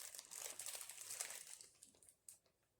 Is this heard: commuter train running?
no